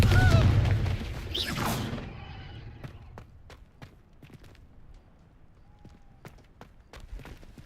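A Confringo blasting spell in Hogwarts Legacy erupts as a loud, broadband boom with a bright burst at the start, then fades into a scattered tail of sharp clicks and small impacts.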